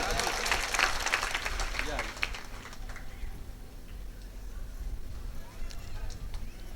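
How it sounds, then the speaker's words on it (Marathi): Audience applause at a Marathi kirtan, a burst of clapping from a crowd that is loudest in the first few seconds, then thins out and fades under a low room rumble. "चला टाळ्या वाजवता की तुम्ही"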